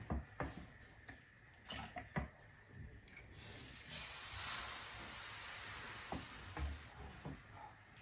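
Oil sizzles steadily in a pan as a pancake fries, with a few clinks and scraping sounds of a utensil over the hiss.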